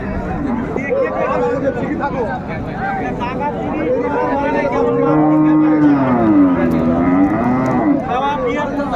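A Sahiwal cow with her calf moos loudly at Raniganj haat cattle market, a long wavering bellow in the middle of the stretch, with people talking and crowd babble throughout.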